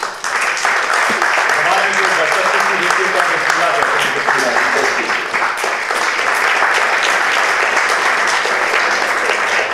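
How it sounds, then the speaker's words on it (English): Loud, sustained applause from a large audience at a celebrity product-unveiling event, dense clapping filling the whole stretch with voices and cheers mixed in. "amidst your thunderous applause"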